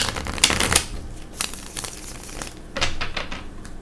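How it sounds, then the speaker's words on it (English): A deck of tarot cards being shuffled during a card reading, with bursts of riffling and crinkly card flicks close by and a brief pause between rounds, with no voices. "Just shuffle one more time."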